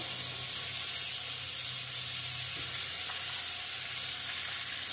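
Spices with turmeric and chili powder frying in a pan for a raw mango sweet-sour-spicy pickle, a continuous soft hiss and sizzle held steady throughout without talking.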